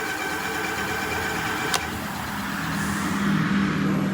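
The hub motor of an Ariel Rider Kepler 52v 20ah eBike, propped on its kickstand with the wheel off the ground, runs at wide-open throttle. A steady loud electric whine and hum is heard, with a brief click near the middle and a rising tone toward the end.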